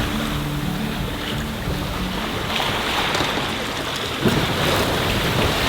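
Sailboat moving through ocean waves while sailing south across the Arctic Circle. Loud, constant rushing of wind and water fills the whole stretch, with no voices.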